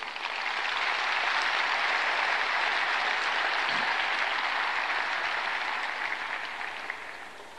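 Sustained applause from the audience at a Fenerbahçe football club congress, a dense, steady clapping that stays loud throughout and eases off slightly at the end.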